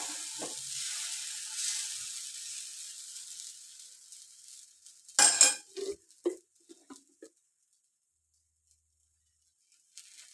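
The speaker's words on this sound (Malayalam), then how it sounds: "എണ്ണയിട്ട് ഒരെണ്ണവും കൂടി ചൂടാം" Wheat flour uthappam frying in oil on a pan gives a soft hiss that fades away, followed by a sharp scrape and a few clinks of a utensil against the pan, then near silence.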